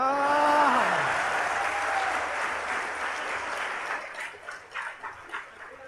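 A crowd of audience members applauds at a live comedy or poetry performance, loud and dense at first, then thinning into scattered individual claps as it fades.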